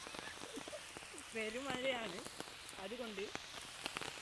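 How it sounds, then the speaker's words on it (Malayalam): Heavy rain pours onto a highway in a steady, soft patter that runs beneath voices speaking throughout. "പെരുമഴയാണ്."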